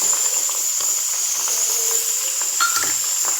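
Fenugreek seeds sizzle in hot oil with a steady, loud hiss and scattered small crackles, close up and without talk.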